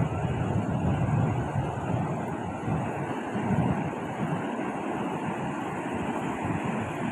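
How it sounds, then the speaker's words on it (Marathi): Sea waves washing onto Arambol beach in Goa, a steady broadband surf rush with wind buffeting the microphone, loud and continuous throughout with no speech. "लाटा बघा, लाटा लाटा बघा"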